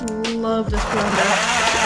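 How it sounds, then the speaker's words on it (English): A countertop blender blending milk and banana, a whirring motor that drops in pitch as it loads up and then settles into a steady, loud grinding hum close to the microphone. "Love this blender."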